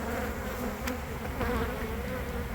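A large honeybee colony hums steadily during removal from a wall, with a dense, continuous close buzz of many bees and no speech.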